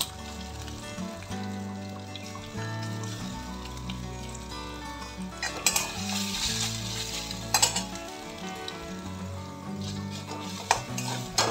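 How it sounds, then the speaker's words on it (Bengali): Grated soybean is stirred and fried in a pan with ginger and green chili. A continuous sizzle is broken by spatula scrapes and utensil clinks, with music playing underneath. "গ্রেট করা সয়াবিনটা দিয়ে একটু নেড়ে নিচ্ছি।"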